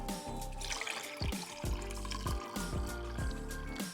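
Unfiltered tap water pours into a cup in a steady gurgling stream, close and fairly loud, its tone shifting as the cup fills.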